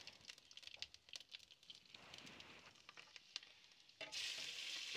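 Tadka tempering sizzles in hot oil, beginning as soft scattered crackles and pops, then breaking into a louder, steady hiss near the end as the spices hit the pan.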